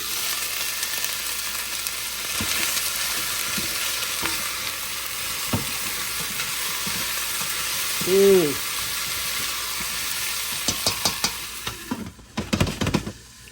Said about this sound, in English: I'm still sauteing them